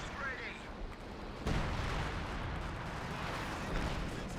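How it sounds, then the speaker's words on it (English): Artillery shells pounding a Werfer rocket launcher in a Company of Heroes 2 battle at Port of Hamburg, with a heavy rumbling blast swelling partway through amid continuous low battle noise and a voice talking throughout. "There's artillery currently hitting your Werfer."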